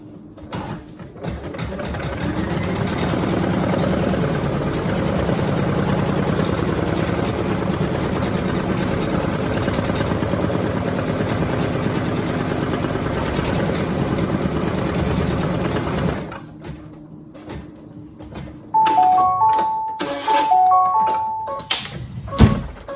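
A Brother ScanNCut machine stitches a tack-down line on faux leather, a steady, loud mechanical whirring that runs for about fifteen seconds and then stops, followed by a few clicks and short electronic beeps.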